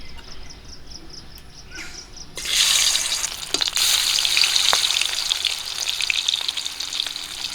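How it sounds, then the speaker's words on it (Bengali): After a quiet start, hot oil bursts into a loud, steady sizzle as pangas fish is added, crackling on without pause. "তেল গরম হয়ে গেছে মাছ দিয়ে দেবো"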